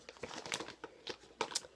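Makeup remover cloth pulled from its plastic packaging, a quick run of close, crisp crinkles and rustles with no talking.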